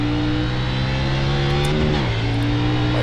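A race car engine in the iRacing sim pulls out of the pits with a loud, steady drone that climbs in pitch, drops sharply at a gear change, then keeps pulling.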